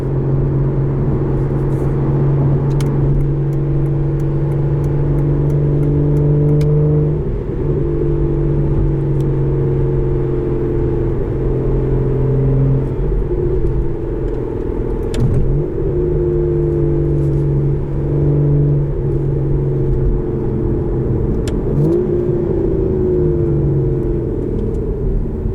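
A 2014 Aston Martin Vanquish engine drones steadily while driving, its pitch rising and dropping through gear changes, with a strong continuous low rumble and whir heard from inside the car, no talking.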